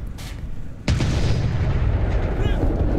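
A tank cannon in the War Thunder video game, on an Strv m/42, fires with one sudden heavy boom that rolls into a long rumbling tail, loud and close.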